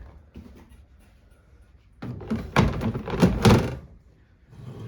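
A Rev-A-Shelf pull-out trash can drawer in a kitchen cabinet slides shut, a rolling rumble followed by a few close thumps and clatters as it seats, after a quiet start.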